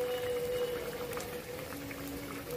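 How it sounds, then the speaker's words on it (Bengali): Fish curry gravy bubbles in a wok, a soft, steady simmering burble with faint popping and a low background hum, continuous and fairly quiet throughout. "ঝোল ফুটছে"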